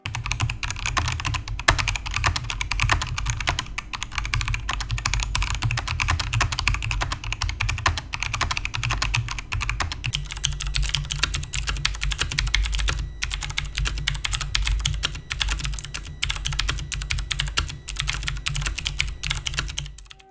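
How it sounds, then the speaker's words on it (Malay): Typing on a Marvo KG922 keyboard compared with a Cherry MX Blue mechanical keyboard: rapid, continuous clicky keystrokes, close and crisp, with a steady low hum beneath and no talk. "Untuk typing test, saya akan bandingkan keyboard ni dengan TTE Sports Mecha Pro yang mempunyai Cherry MX Blue switches."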